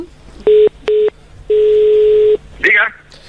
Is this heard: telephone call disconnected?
yes